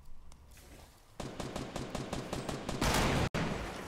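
Rapid bursts of automatic gunfire in the video game Fortnite, a fast rattling string of shots that grows louder and denser before cutting off abruptly.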